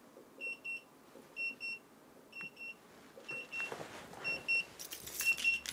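A key finder tag gives repeated pairs of thin electronic beeps at a steady rhythm, faint and a little distant from the kitchen, with rustling and handling noise building toward the end.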